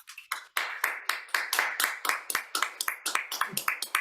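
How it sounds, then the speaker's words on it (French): A small club audience claps in a sparse, uneven patter, individual hand claps distinct and close, about a dozen sharp strikes over a few seconds with a brief murmur of voice. "je voudrais vous demander d'applaudir à Alexis encore une fois"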